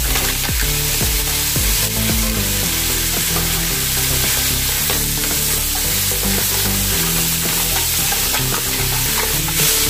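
Mussels go into a hot pot of seafood and sizzle loudly and steadily, with constant frying hiss and repeated stirring scrapes and knocks close up.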